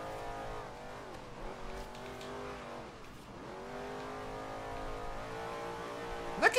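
A race car engine in the Forza Horizon 3 Hot Wheels expansion revs up and drops back with each gear shift. It drones steadily from the driver's view, and a short sharp tire squeal comes at the end.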